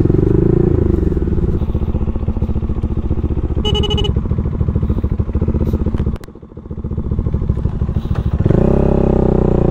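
A loud, close motorcycle engine runs hot on a dusty road with a steady rapid throb, briefly dipping in power before picking back up, with no talk over it.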